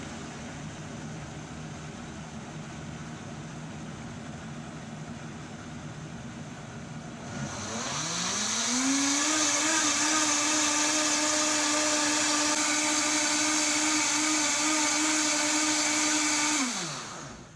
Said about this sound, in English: And down to cleaning cycle and go.